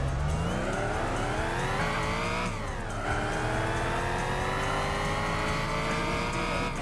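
Race car in Gran Turismo 4, a one-make legends race, accelerating hard with a loud, steady engine roar whose pitch climbs, drops at a gear shift, then climbs again, with no talk over it.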